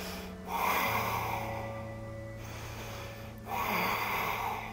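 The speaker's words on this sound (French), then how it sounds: "Toujours Ujjayi." Ujjayi yoga breathing during a hip-flexibility session, two long, close, audible breaths with a soft throaty rasp, separated by a pause.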